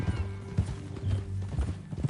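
Horse hooves clip-clop in Red Dead Redemption 2, a steady walking rhythm of close, muffled thuds with low game ambience underneath.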